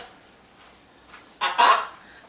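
A pet bird gives a short, loud squawking call right up close after a couple of quieter chirps, in a calm indoor room.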